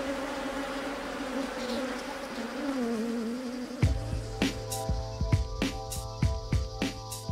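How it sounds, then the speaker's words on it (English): Killer bees buzzing around their hive, a steady close swarm drone that later gives way to sharper, broken buzzing with scattered clicks and knocks. "so Reed blocks off the bees' entrances to their hive"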